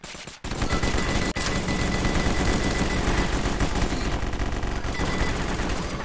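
SMG gunfire in the battle royale game War Brokers, loud sustained rapid bursts of automatic fire running almost without pause, broken by two brief gaps near the start.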